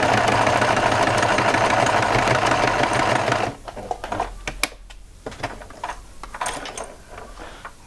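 Sewing machine backstitching to close the opening of a bib, a dense fast motor chatter for about three seconds that stops abruptly, followed by faint clicks and handling noises.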